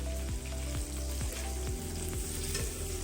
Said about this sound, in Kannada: ಇದನ್ನು ಚೆನ್ನಾಗಿ ಎಣ್ಣೆಗೆ ರೋಸ್ಟ್ ಮಾಡ್ಕೊಳ್ತೀನಿ